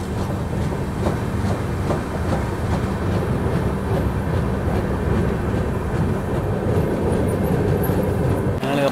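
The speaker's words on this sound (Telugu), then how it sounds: "మన ట్రైన్ అయితే చేరుకుంది యలహంక జంక్షన్ స్టేషన్కి" The Prasanthi Express, running from Bhubaneswar to KSR Bengaluru, rolls on its rails with a loud, steady rumble and faint rhythmic clickety-clack of the wheels, heard from on board with no voices.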